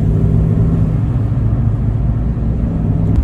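A car passes along a back road near a campsite, a loud, steady low rumble of tyres and engine that holds for the whole stretch with no voices.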